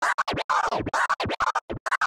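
DJ orbit scratches on a turntable with the crossfader held under thumb and index finger, a rapid run of short choppy bursts sweeping up and down in pitch, loud and close with no talking.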